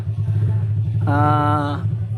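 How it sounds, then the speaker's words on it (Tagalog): A motorcycle engine drones briefly outside, a buzzing tone rising over a low steady hum for under a second before fading. "Ayan, ang ingay, may motor sa labas."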